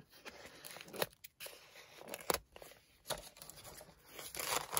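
Wrapping paper printed with Monstera leaves is torn and crinkled in repeated bursts, with close rustling and ripping sounds and brief quiet gaps.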